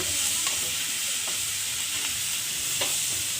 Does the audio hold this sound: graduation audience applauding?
no